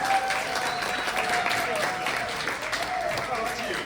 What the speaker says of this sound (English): Y'all give it up, make a big round of applause for him.